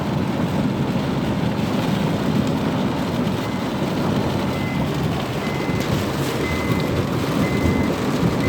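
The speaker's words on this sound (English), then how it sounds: "Watch this truck!" A truck's reversing alarm beeps in a steady repeating pattern through heavy rain and a constant wash of water and engine noise during a flood, with no talk.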